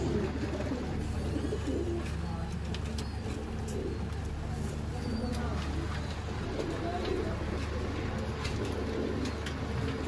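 Soft, low cooing of Sialkoti pigeons repeats over a steady background hum while someone talks nearby.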